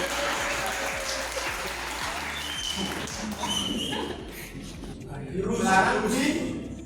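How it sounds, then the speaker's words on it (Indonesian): Students in a classroom give a round of applause, steady overlapping clapping that fades out over several seconds as voices take over. "Aplaus dulu untuk pertanyaannya dulu."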